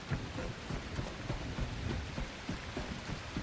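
Steady rainfall in the video game The Last Caretaker, a dense continuous patter of drops on surfaces, loud and close with no talk.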